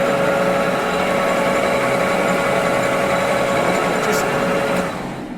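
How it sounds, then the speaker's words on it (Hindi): A lathe spindle set to B and H gears turns at 525 rpm, giving a loud, steady mechanical whine and hum that continues evenly before easing off slightly at the end. "ये 525 आरपीएम पे रोटेट कर रहा है।"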